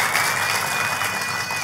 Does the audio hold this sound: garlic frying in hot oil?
no